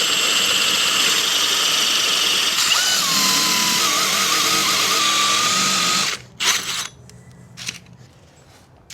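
A power drill bores into masonry with its pilot bit removed while fitting an outdoor soft-water faucet, grinding loudly and steadily for about six seconds, then cutting off into a few short bursts and quiet.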